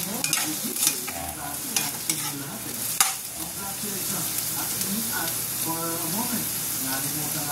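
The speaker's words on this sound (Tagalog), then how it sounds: "Igisa ko muna yung mga ingredients na guys." Ingredients for a milkfish sour soup sautéing in a pan, a steady close sizzle with repeated scraping stirs and utensil clinks, with a voice speaking at moments over it.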